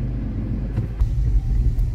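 A car rolling slowly into the parking area of a sea-facing resort in Tajpur after a rough road, giving a close, steady low engine rumble with a few soft bumps and no talk.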